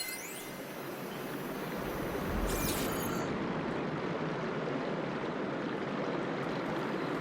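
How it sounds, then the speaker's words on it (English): Water flows steadily through a room in the video game Horizon Forbidden West, a constant moderate rushing and trickling wash with a faint higher ringing tone fading early. "Aloy, I can hear water in the room again"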